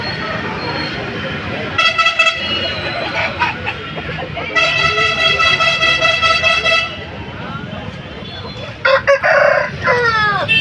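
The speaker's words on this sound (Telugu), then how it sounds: "వీడియో కనిపిస్తుంది కాకిటేక పుంజు." A Kakiteka rooster crows loudly at a busy weekly livestock market in Rayachoti, Kadapa district, with several crows rising above a dense din of crowd chatter and honking vehicle horns.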